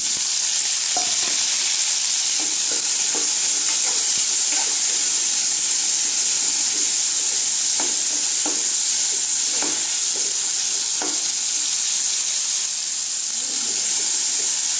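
Onion and tomato sauté in a hot pan for okra thokku, a loud, steady sizzle and hiss that runs throughout with faint scraping stirs beneath it, with no speech.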